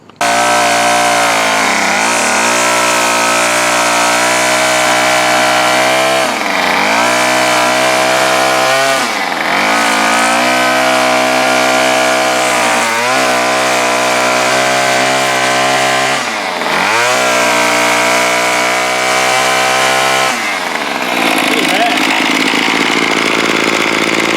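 A Bolens BL110 25cc weed eater trimmer engine runs loud and close for the whole stretch, droning with repeated dips and revs as the throttle is worked, then settling near the end.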